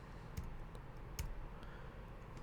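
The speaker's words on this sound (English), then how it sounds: "if we hit the backslash key on our keyboard" A backslash key is tapped on a computer keyboard, two soft, quiet clicks in a hushed room with a faint extra tick between them.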